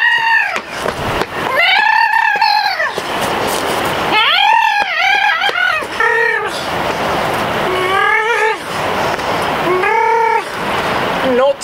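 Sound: person imitating a velociraptor call

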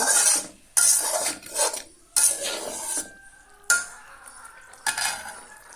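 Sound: stirring fried shing fish with masala in a pan

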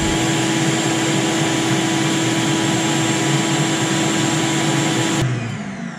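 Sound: vacuum cleaner running

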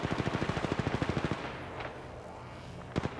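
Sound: gunfire in Apex Legends Mobile video game

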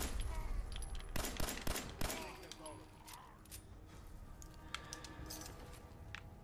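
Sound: pistolet shotgun pistol firing in video game Fallout 4

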